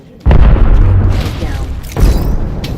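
An arc star grenade explodes in a video game: a loud, close boom, then a second blast about two seconds later. Both trail off into rumble, with brief talk alongside.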